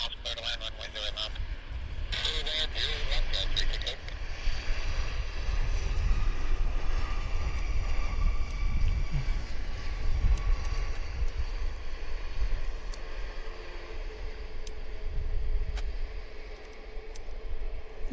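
An airliner landing at Vancouver Airport gives a low, steady engine rumble and roar that swells and fades, heard from a distance under wind noise and faint speech.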